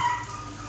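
A pet dog at home reacts to a doorbell with a very brief, close yip or bark, set against a steady background hum.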